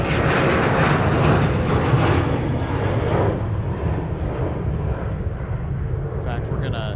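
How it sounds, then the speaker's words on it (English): An airliner takes off at MSP airport, its engines roaring steadily loud and close for the whole stretch, a broad rumbling jet noise that slowly eases toward the end. "then that Phoenix Heavy will be landing just after this one takes off."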